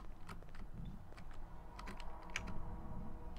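Keypad buttons pressed one after another to enter a number code in Gmod, a horror game map, sparse clicky taps over a low steady background hum, without voices.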